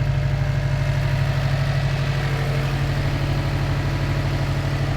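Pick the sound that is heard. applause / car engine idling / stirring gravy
car engine idling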